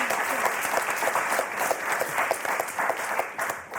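A studio audience on the French word game show Motus claps enthusiastically, a steady, bright patter of many hands sustained for several seconds with slight surges in intensity.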